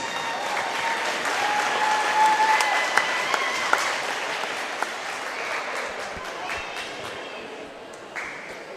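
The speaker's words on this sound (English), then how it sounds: "Let's give one more big round of applause for our senior dance members" A crowd applauds senior dance members on senior night at a high school basketball game, a loud, steady wash of clapping from a full gym lasting several seconds, with scattered cheers and a few sharper individual claps.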